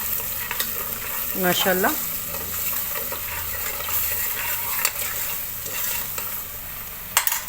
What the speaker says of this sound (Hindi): मसाला देखिए बहुत ही अच्छे से भुन रहा है।